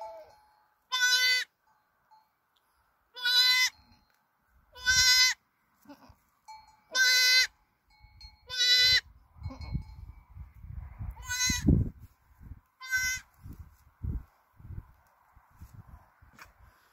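A goat giving birth bleats loudly in separate, evenly spaced calls, about seven in all. Rustling and thumping movement comes in between and underneath, with no talking.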